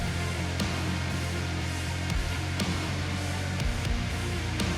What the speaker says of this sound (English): the compiling shaders sounds like this